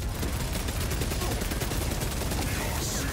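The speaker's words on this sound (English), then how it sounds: "this minigun I have does not need to be reloaded or spin up or anything" Minigun fire in the video game Space Marine 2: a relentless, rapid stream of gunshots at steady volume, loud and unbroken throughout, with no spin-up or pauses.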